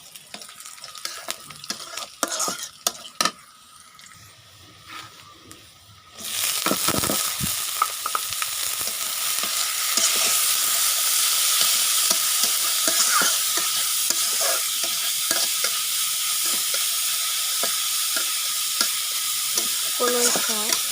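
Kolai greens stir-fried in a pan, starting with quieter scattered stirring clicks, then a loud continuous sizzle kicking in as the greens hit hot oil, with repeated scraping and stirring throughout.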